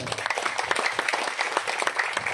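Audience at an RW 04 neighbourhood community meeting claps in a dense, steady burst of applause lasting a couple of seconds, fairly close and lively, with no speech over it.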